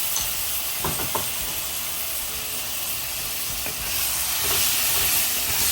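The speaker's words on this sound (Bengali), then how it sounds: "ভালো করে সব মশলা দিয়ে ভালো করে কষিয়ে নিচ্ছে" Ground spices with garlic and ginger paste fry in a pan for a Bengali rice dish, producing a steady, close hiss and sizzle with a few soft scraping stir sounds, and the sizzle swells slightly toward the end.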